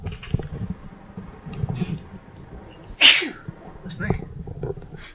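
One sudden, sharp sneeze in the middle of casual talk from a person playing a computer game, with quiet speech before and after it.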